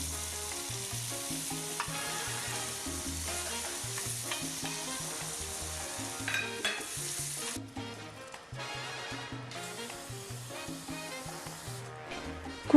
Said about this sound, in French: mélangez le tout avec une cuillère en bois